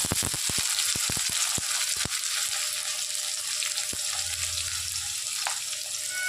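Crushed garlic, slit green chillies, sliced onion and kalonji seeds sizzle in a hot pan, a loud, steady frying hiss that runs throughout, with a few sharp clicks near the start and no voices.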